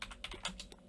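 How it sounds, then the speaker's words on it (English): Quick clicking on a computer keyboard, several close, fairly soft keystrokes in an uneven rhythm with no voices over them. "I was typing in Arabic, I think"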